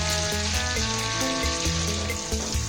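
Two bay leaves sizzle in hot butter in a pan for an egg malai masala, a steady, loud frying crackle with a continuous hiss and no talking.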